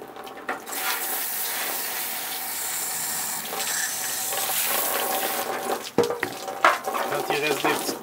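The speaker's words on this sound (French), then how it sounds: "Donc on rince comme il faut, on refroidit la viande aussi comme ça, en rinçant comme il faut." Running water from a tap rinses a freshly slaughtered, gutted chicken in a sink, a steady broadband splashing that continues throughout, briefly interrupted near the end by handling knocks and shifting splashes.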